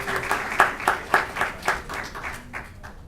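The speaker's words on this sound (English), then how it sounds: "Give their parents a big round of applause," A small audience at a city council meeting gives a brief round of applause, with individual claps distinct and rhythmic, fairly close, tapering off after about three seconds.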